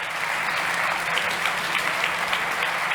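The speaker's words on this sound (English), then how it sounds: "Ladies and gents, a huge round of applause for Namuru." Sustained applause from a startup competition audience at a fintech and insurtech pitch event, a dense, even wash of many hands clapping throughout with no talk over it.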